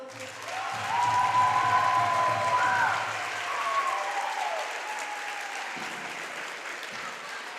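A gym crowd at a high school varsity volleyball senior night claps for a player reaching 1,500 kills, steady applause swelling and then easing, with a voice speaking faintly over it near the end.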